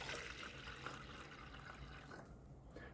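Water poured into the cup of a paint sprayer, a steady close liquid splash and trickle running for about three seconds with no talking.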